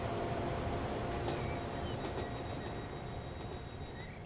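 A train in the Transport Fever 2 game, running on a British Trent Valley line, rumbles steadily with rolling wheel noise and faint squeals, holding an even, fairly quiet level without voices.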